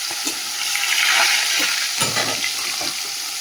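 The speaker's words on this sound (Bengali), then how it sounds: "নুন হলুদ একটু তেল আর লঙ্কার গুঁড়ো মাখিয়ে রেখে ভালো করে লাল করে ভেজে নিই" Fish rubbed with salt, turmeric, a little oil and chili powder sizzles steadily in hot oil as it fries until red, a continuous loud crackle with a few soft stirring bumps and no talk.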